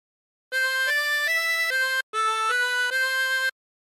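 A 24-hole tremolo harmonica plays a short Waltzing Matilda phrase: a run of sustained, reedy notes stepping up and down, with a brief gap midway. It is heard alone, clear and close.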